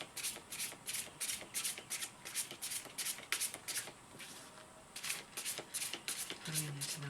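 Tarot cards shuffled by hand in rapid, rhythmic riffling bursts, close and fairly quiet, with a brief pause midway and a faint low sound near the end.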